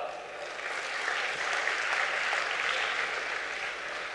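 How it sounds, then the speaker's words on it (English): Audience applause fills a hall during a business session on entrepreneurship: a dense, steady wash of clapping that holds at an even level for about four seconds, with no talk over it. "can we give them a big applause?"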